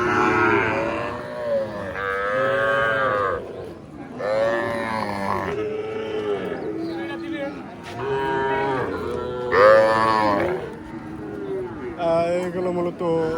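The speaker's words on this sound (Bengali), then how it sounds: "আপনারা দেখতে পাচ্ছেন এটা একটা দেশি বাছুর।" Desi calves at a busy cattle market moo repeatedly in long, loud, drawn-out calls, several in a row, with grunts and people talking in the background.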